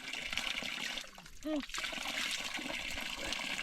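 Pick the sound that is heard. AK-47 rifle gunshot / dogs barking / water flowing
water flowing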